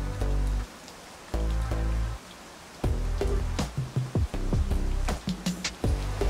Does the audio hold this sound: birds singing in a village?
no